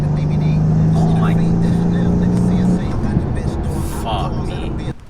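A Mercedes-AMG rear-wheel-drive V8 car driving in the rain gives a steady, loud road-and-engine roar throughout, with a low droning tone that fades out partway through.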